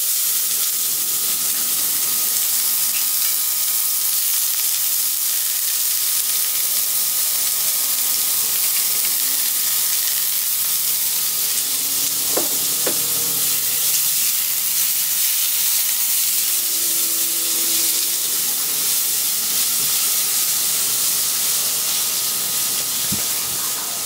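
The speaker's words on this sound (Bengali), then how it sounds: "এই পেঁয়াজগুলো যখন ভাজছি ঠিক তখন একটু নুন দিয়ে দেবো" Chopped onions sizzle steadily in hot oil in a pan, a loud, continuous hissing fry that holds for about twenty seconds with a few faint clinks and stirs, no one talking.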